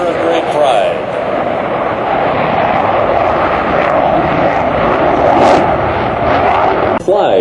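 A US Navy F-18 Super Hornet jet roars overhead at a flight demonstration, a broad loud sustained rush of engine noise with a brief dip near the end.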